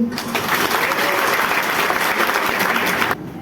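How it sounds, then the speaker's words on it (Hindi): A crowd at a business meeting in Jaunpur breaks into sustained applause, a thick even wash of clapping that continues steadily and then stops abruptly near the end. "तो बता दो एक बार तालियों से"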